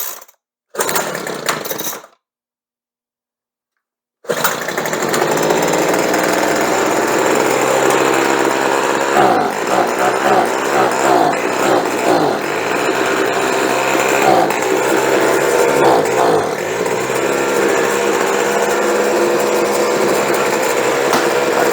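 A leaf blower's small two-stroke engine screams steadily at full throttle after a couple of brief starts and a silent gap, loud, close and continuous with slight wavering, no talking.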